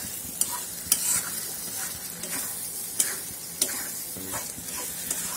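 Shrimp with turmeric, salt and masala fry in a pan while being stirred, giving a soft continuous sizzle broken by sharp ladle taps and scrapes at intervals, with no talking.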